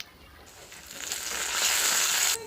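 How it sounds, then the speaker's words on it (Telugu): Tempering spices hitting hot oil for peanut chutney: a hiss that swells within a second into a loud, bright, steady sizzle close by, then cuts off abruptly near the end. "ఆయిల్ వీటెక్కింది, పోపు వేసుకున్నానండి."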